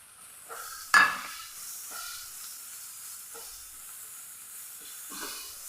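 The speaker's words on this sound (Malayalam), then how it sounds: "ഇനി നമ്മുടെ ആ ഒരു പൊടിയുടെ പച്ച മണം ഒന്ന് മാറി വരണ വരെ ഒന്ന് വഴറ്റിയെടുക്കുക ഈ സവോള" Onions cooking in a pan with chili powder, pepper powder and garam masala give a faint, soft sizzle. A sharp utensil knock comes near the start, followed by a few quiet stirring scrapes in an otherwise hushed kitchen.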